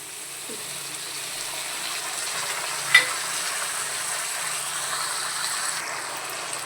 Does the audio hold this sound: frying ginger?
yes